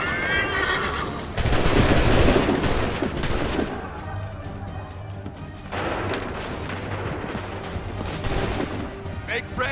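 Musket volleys crack out in Assassin's Creed III, two dense bursts of massed gunfire with a horse whinnying and battlefield noise around them, loud and close.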